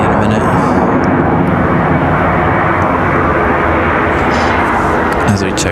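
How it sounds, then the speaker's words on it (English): Loud, continuous roar of a PSA Airlines regional jet landing at Raleigh-Durham airport, close and broadband, with a voice talking over it. "As PSA touches down from DC, we'll grab that one's taxi in a minute."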